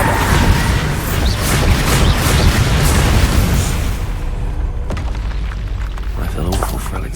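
A Bombarda blasting spell from Hogwarts Legacy goes off among other booming spell impacts, loud rumbling bursts that fade near the end, with a voice speaking over the action.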